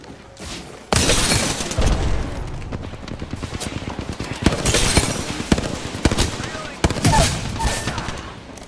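Gunfire in the Apex Legends video game: dense bursts of rapid automatic shots and sharp cracks, loud and close, with brief pauses between volleys after a quiet opening second.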